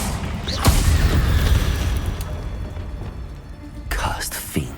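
Incendio fire spell cast in the Hogwarts Legacy video game, a loud booming burst of flame rising over dense rumbling game noise, with a second blast near the end and a voice speaking over it.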